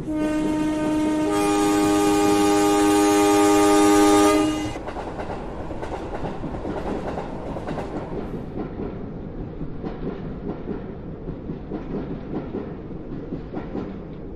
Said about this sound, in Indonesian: Setelah kereta terakhir pada jadwal yang tertera lewat